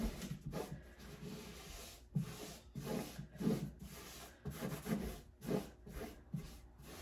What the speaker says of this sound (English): I'm going to use the glove again and just push it down to burnish it in